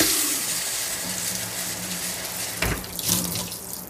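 A Tommee Tippee Perfect Prep machine dispenses water in a steady, close hissing stream, with a brief sharper splash near the end as the flow settles.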